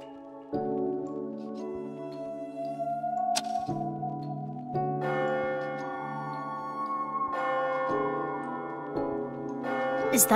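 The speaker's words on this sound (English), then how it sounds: "Is that the bell? The clock moved. Midnight." Clock bell chiming midnight in the video game AI: The Somnium Files – nirvanA Initiative, sustained ringing tones struck several times in succession over a steady musical backdrop, fairly loud and without talk.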